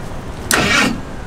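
Ice cream truck engine cranking briefly without catching, a single short, close burst of starter whir lasting under half a second, then quiet.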